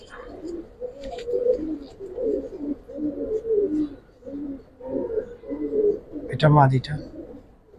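Silver Giribaz pigeons coo in repeated soft, low, rhythmic bursts close by, while someone talks briefly over them.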